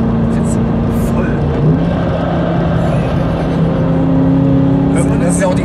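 A supercharged BMW M3 with a G-Power compressor conversion runs steadily on a dyno, giving a continuous loud engine drone with a raspy, wheezing undertone and brief higher whistles, while voices talk faintly over it.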